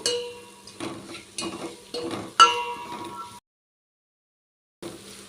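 Ingredients for tomato rasam fry in oil in a pan, with spatula stirs and metal clinks over a soft sizzle in several close bursts, then a short silence and one more burst.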